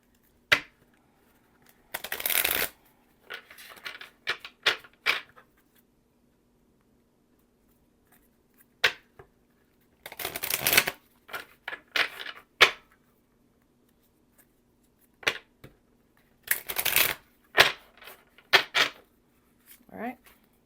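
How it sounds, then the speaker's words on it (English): Several bursts of oracle cards being shuffled with crisp riffling flutters, separated by quiet gaps and scattered soft taps and handling clicks. "The Shamanic Healing Oracle cards. Go ahead and shuffle these."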